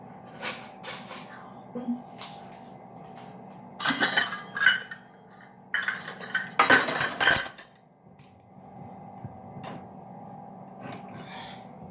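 A metal spoon clinks and scrapes against dishes while half a cup of brown sugar is added for a butterscotch cake, with scattered bursts of clattering cutlery and crockery up close between quieter pauses.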